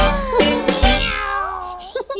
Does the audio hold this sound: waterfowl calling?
no